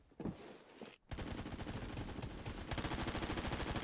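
An AK rifle firing sustained full-auto bursts, loud and close, with rapid evenly spaced shots after a brief quiet opening.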